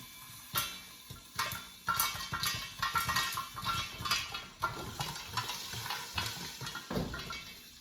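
Popcorn pops in a covered pan while being stirred, with sharp irregular pops bursting over a steady scraping stir, fairly close and loud, no talking.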